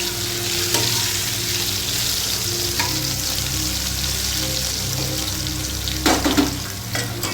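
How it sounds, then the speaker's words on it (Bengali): Potatoes fry on a low flame in oil left over from frying fish, a dense, steady close sizzle with a brief clatter near the end. "মাছ ভাজার যে তেলটা ছিল তার মধ্যে আমি আলুগুলোকে দিয়ে দিলাম।"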